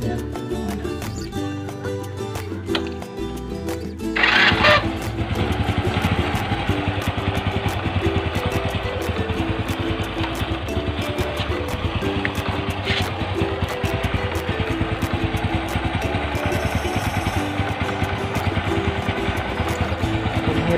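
A motorcycle engine idles steadily after its low battery is fixed, with a low, even rumble and light mechanical clatter, continuing without letup after a brief sharp noise near the start.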